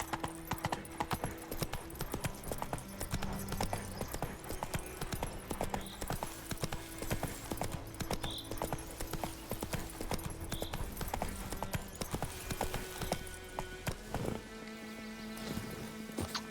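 Roach the horse galloping in The Witcher 3: rapid rhythmic hoofbeats pounding steadily and close, with a brief change of pace near the end and faint talk underneath.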